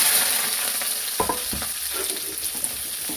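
Onion and green chili fry in hot oil for tempering, giving a steady close sizzle broken by a few sharp scraping stirs.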